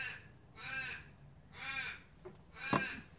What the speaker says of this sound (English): Freaking crows.